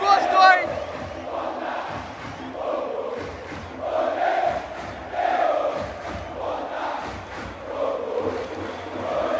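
Botafogo supporters roar and chant in a packed stadium near the end of a first half against Grêmio, a sustained crowd swell that rises and falls in waves, with a broadcaster's voice faintly mixed in.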